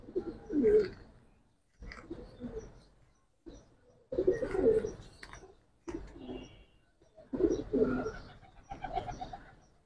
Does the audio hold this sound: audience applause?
no